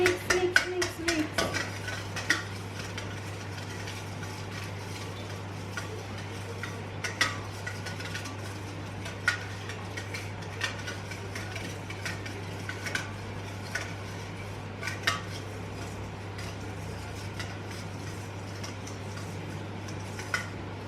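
Egg and cornbread mix being stirred in a bowl, with utensil clinks and scraping ticking along steadily at close range over a constant low hum, quiet and without talk.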